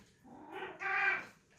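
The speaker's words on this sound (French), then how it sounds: "C'est mon chat d'Halloween." Cat meowing: a single drawn-out meow rising then falling, close and clear against a quiet background.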